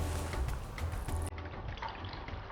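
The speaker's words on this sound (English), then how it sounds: "Now I'm going to take that warm milk into the bowl." Warm, steamy plant-based milk pours into a mixing bowl while making dairy-free doughnut batter, a steady close liquid stream and trickle heard alone.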